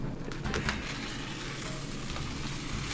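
Sofrito and rice sizzle steadily in a pot for Cuban-style yellow rice with chicken breast, a close, continuous frying hiss with a few brief scrapes near the start.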